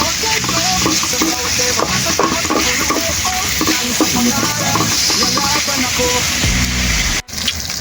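Chicken adobo, home-made, cooking in a pan with a steady loud sizzle and bubbling broken by occasional scraping stirs, continuous throughout with a brief dip near the end.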